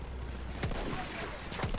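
Gunfire in Battlefield 1 on the Nivelle Nights map, a few scattered shots and low booms over a steady battlefield rumble, with a voice faintly in the background.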